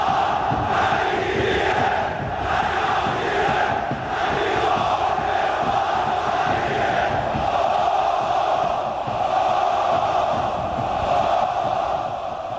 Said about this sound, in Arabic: تشجيع الجمهور للاعبين وتشجيع الجمهور وحبهم للنادي الاهلي